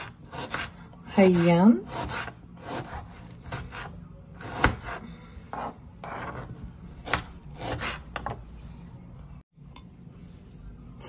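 A knife cuts through one whole red onion on a board, a series of crisp, evenly spaced slicing strokes and rasping rubs close by, with someone talking in between.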